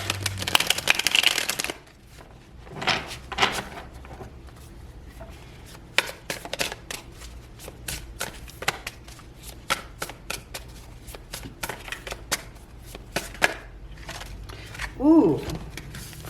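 A deck of tarot cards is shuffled by hand in repeated riffles and flicks, a crisp papery flutter at close range, with a brief spoken remark near the end.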